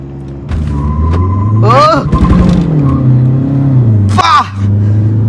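A stage 5 custom-turbo 2.0 L diesel Skoda Laura accelerates hard with traction control on, its deep engine drone rising through two sharp revving sweeps, loud and close, with occasional talk over it.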